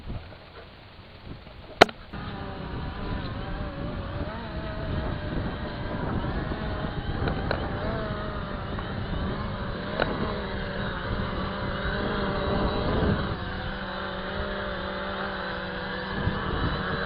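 An Upair One drone flies back in to land in windy conditions, its motors giving a steady, droning whir. The sound holds at a constant loudness, with a sharp knock near the start.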